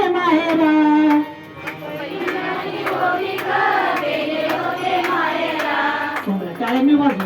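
Audience hands clap in a steady beat during a kirtan at an Akhand Harinam Saptah gathering in Dhelemala, Kole, with sharp, evenly spaced claps running under sung, harmonium-like melody throughout.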